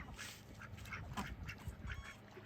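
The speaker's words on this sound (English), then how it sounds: "Ducks are out enjoying their little pool." Ducks quack in short, repeated bursts beside their small backyard pool, the calls fairly close but quiet over a low outdoor background.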